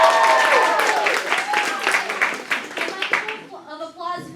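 A crowd at an improv comedy show claps and whoops, with lively raised voices and cheers over the clapping before it settles toward talk near the end.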